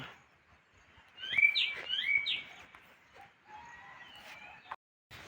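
Several birds in a tree chirp and call in the rain, a pair of sharp whistled notes followed by softer, trailing calls against a quiet background.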